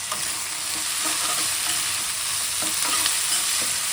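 Beans and carrots fry for upma in a pan with a continuous close sizzle, broken by repeated scraping stirs of a spoon.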